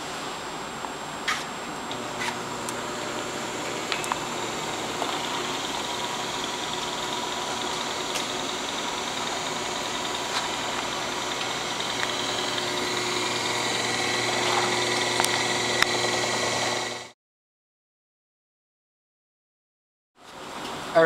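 A peristaltic pump runs steadily while pumping media into a Bioflo 3000 fermenter vessel, giving a continuous mechanical hum with faint rhythmic ticks for about seventeen seconds before it stops into near silence.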